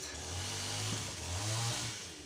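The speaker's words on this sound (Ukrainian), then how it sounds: "Свердлю такою дрелькою." A Kraft electric drill runs steadily close up, its motor whining with a slight rise and dip in speed across the clip.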